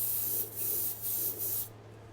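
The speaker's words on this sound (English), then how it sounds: "Test spray." A Black Widow airbrush gives test sprays, three close, steady hissing bursts of about half a second each, separated by short pauses.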